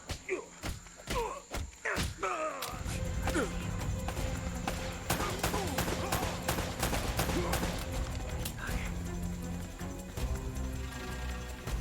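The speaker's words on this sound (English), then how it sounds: "They're shooting at you too, you know." Gunfire in Uncharted: Drake's Fortune, several sharp separate shots at first, then a dense run of rapid shots and thuds over busy game noise, with a voice speaking under it.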